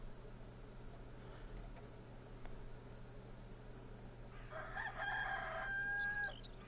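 A rooster crows in the Dark Cloud video game, its drawn-out call rising clearly over a steady hum of background noise near the end.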